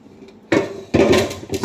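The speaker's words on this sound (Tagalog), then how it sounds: "So, asa naman atong kaldero." A cooking pot is picked up and set down, giving two or three close, loud metallic clanks and scrapes with short pauses between them.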